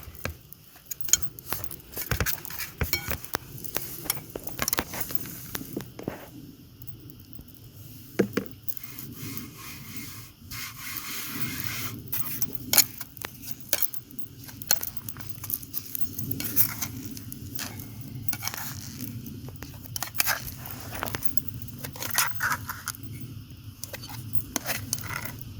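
Sticky sourdough is scraped loose from the sides of a bowl, making quiet irregular rubbing and scraping strokes with soft taps and clicks that continue unevenly for about twenty-five seconds.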